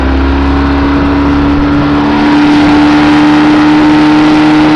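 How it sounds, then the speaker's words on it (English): A 25 horsepower outboard motor on an old wooden dory, a loud steady droning engine hum with constant wind and water rush, unbroken for the whole stretch. "25 horsepower on the old dory."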